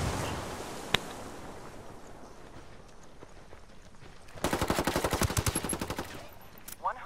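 Enemy automatic gunfire in the tactical shooter Ghost Recon Wildlands, a fairly faint, rapid string of shots lasting about two seconds, preceded by a single sharp crack over low background ambience.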